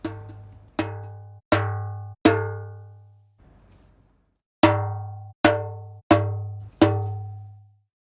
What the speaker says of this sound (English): It's a Turkish hand drum